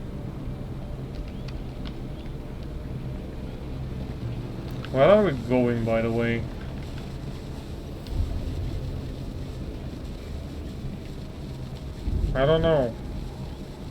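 A steady low drone from slow, underpowered vehicle engines in the Trailmakers video game runs beneath the whole stretch, with people talking briefly over it.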